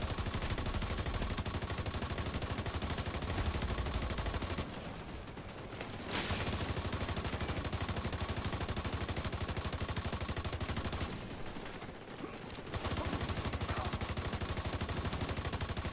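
Rapid automatic gunfire during a raid in The Division 2 hammers almost without a break, loud and dense, with two short pauses before the shooting resumes.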